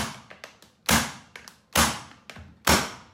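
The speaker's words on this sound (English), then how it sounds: "I'm going to take my electric tacker" An electric tacker fires staples through stretched carpet into a tack strip at a carpet-to-marble floor transition: several sharp thuds, three loud and a few softer, each a close percussive snap with no voices.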